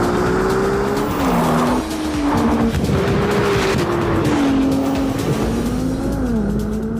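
A Ferrari 296 GTB with a twin-turbo 3.0-litre V6 hybrid drivetrain drives hard, its engine note climbing and dropping through gear changes, loud and close, with tire squeal.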